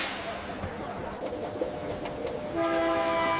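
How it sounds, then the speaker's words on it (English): A train pulls in along a station platform, rumbling and clattering steadily before a sustained horn-like tone sounds loudly near the end over the general station noise. "The train arriving on platform 3 is the Sahyadri Express."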